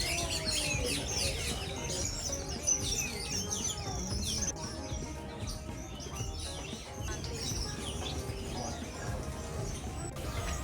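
Many birds chirp and call at once in an aviary area of a zoo-style theme park, a dense, continuous chorus of tweets and whistles with some faint background murmur.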